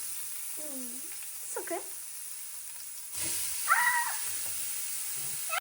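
Chopped vegetables drop into hot oil and set off a sudden, loud sizzle about halfway through, after a quieter stretch. Voices speak briefly before and over the hiss.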